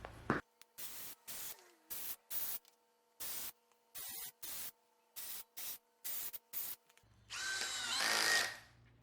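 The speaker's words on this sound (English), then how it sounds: "now I'm about to go through and drill them all down" A power drill drives screws into wood for a workbench in a rapid series of short, evenly spaced whirring bursts, close and loud, ending with a longer, rougher burst.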